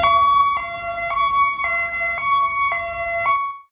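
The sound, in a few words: ambulance Hi-Lo siren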